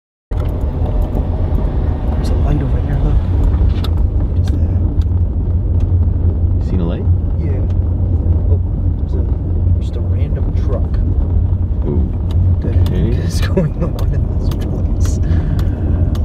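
A heavy gravel truck passes on a desert mountain trail, its deep, steady engine rumble and road noise filling the whole stretch while voices talk nearby.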